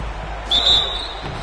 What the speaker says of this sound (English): So he gets the whistle.